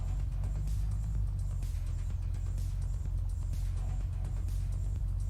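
A car in the survival game Unturned drives along with a steady, loud low engine drone and rumble throughout, no voices over it.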